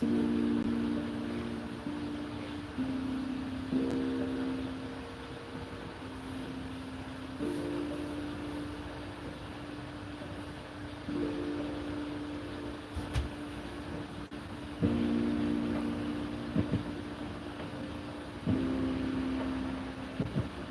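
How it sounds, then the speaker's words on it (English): A serger stitches the seams of a DIY duster coat at a 5/8 seam allowance, its motor running in a steady humming whir that starts and stops in repeated bursts, with no talking. "I am serging my stuff at 5/8 of a seam allowance"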